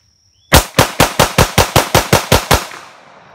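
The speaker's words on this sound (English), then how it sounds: "It's mag dump time." A Kimber Pro Raptor 2 pistol emptying its magazine at an outdoor range, about eleven loud, sharp shots fired in fast, even succession, followed by a short fading echo and no talking.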